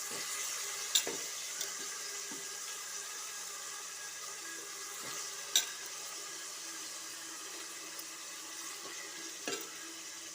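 Beans, carrot, cauliflower and potato fry in a pan for veg pulao, giving a soft, steady sizzle with a few sharp clinks of a utensil spread across the stretch.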